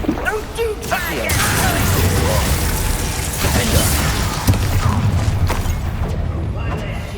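Confringo blast spell cast in Hogwarts Legacy, a loud explosive burst over a dense, continuous roar of combat effects, with crashing and shattering layered in and voices calling out spells.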